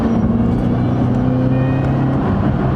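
A 2008 Ford Shelby GT500 Super Snake with a 5.4-litre V8 and manual gearbox drones loudly and steadily under acceleration, heard from inside the car with no talking.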